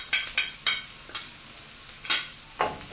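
Garlic tipped into a pan of frying onions for a creamed chicken breast dish, giving a sequence of short, sharp sizzles and stirring scrapes heard close up with no talking.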